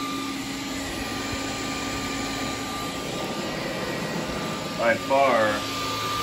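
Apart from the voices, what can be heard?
vacuum cleaners running at medium suction, Dyson loudest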